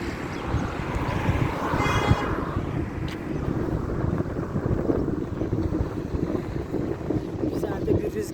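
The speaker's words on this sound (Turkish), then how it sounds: "rüzgar esiyor." Wind roars and buffets steadily against the microphone outdoors near Beyşehir, Turkey, a broad low rush that never lets up, with a brief higher whine early on.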